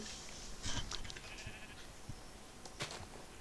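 Sheep bleat in the Minecraft video game: several short, quavering bleats come in bursts, fairly faint and close, over a soft background hiss.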